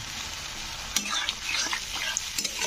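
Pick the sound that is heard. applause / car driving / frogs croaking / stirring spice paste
stirring spice paste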